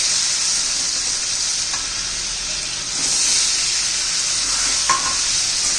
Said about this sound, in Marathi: छान असं परतून घेऊया आपण